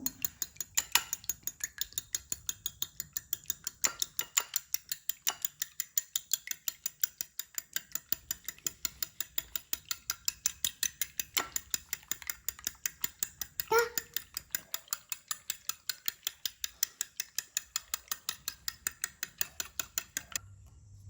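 Butter cake batter being mixed with a rapid, evenly ticking mechanical rattle of a mixer running continuously, with occasional clinks against the bowl and faint background voices.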